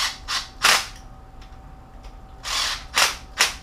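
Short bursts from a power tool running up the cylinder head bolts on a 3.7L 2006 Jeep Grand Cherokee Laredo engine, set to low torque; several sharp, close rattling whirs separated by pauses, with no talking.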